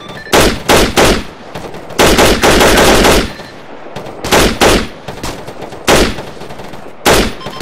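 Machine guns fire in repeated bursts of rapid automatic gunfire in an outdoor valley engagement, loud and close. Several sustained volleys are separated by short pauses, with no speech.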